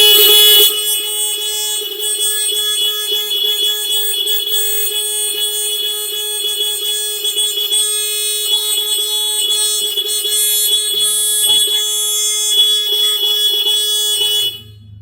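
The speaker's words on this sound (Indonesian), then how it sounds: "Suara alarm memakai klakson Anda." A smart motorcycle alarm blares through the horn indoors as one loud, continuous electronic wail with a piercing tone, sustained for about fourteen seconds before cutting off.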